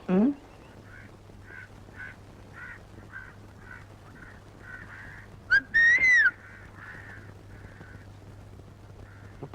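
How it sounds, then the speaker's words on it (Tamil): A woman whistles in a Tamil comedy film scene: a row of short, evenly spaced chirps, then a louder, rising whistle with a bright ringing tone, close and alone. "பைத்தியக்கார பொண்ணு என்ன பார்த்தா விசில் அடிக்குது"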